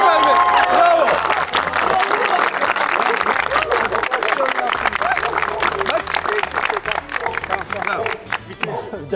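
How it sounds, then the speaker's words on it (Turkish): A lively indoor crowd claps and cheers loudly and continuously for the full stretch, with voices talking and calling out over the applause. "Alkışlıyoruz. Bravo Alper Bey. Bravo."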